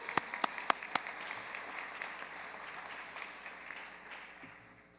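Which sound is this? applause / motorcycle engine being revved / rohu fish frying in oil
applause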